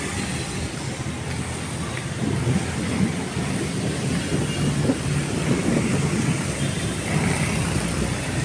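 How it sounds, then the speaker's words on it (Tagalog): Heavy rain pours during Typhoon Pepito while people walk outdoors, a dense, continuous roar that swells slightly after the first couple of seconds and carries on unbroken without speech. "naglalakad sa gitna ng ulan"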